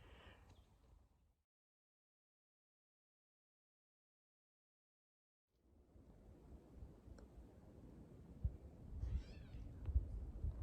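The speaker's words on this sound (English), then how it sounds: "That's actually a bird that sounds like a cat." A gray catbird calls with a mewing, cat-like note from outdoor birdsong; a brief burst, then silence, then busy outdoor sound with several short high chirps and calls toward the end.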